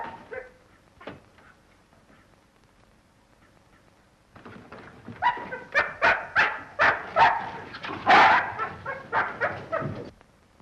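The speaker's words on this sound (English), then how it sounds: "This dog's been struck a nasty blow." A dog that has been struck a nasty blow whimpers faintly at first, then breaks into a run of loud, close, rapid barks and yelps mixed with whining.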